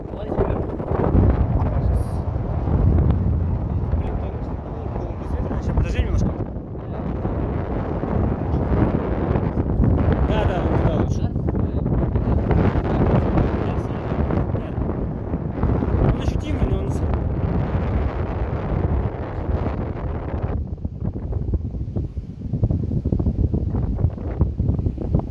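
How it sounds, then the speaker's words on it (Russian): Steady wind roars across the microphone while sailing, a loud continuous rush with gusty swells throughout, and voices talk over it at times. "Да, в принципе, нормально, устойчивый ветер"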